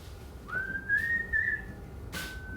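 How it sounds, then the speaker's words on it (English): A person whistles a single long rising note that holds steady for a moment, followed by a brief second whistle, alone against quiet background. "You can listen to me whistle."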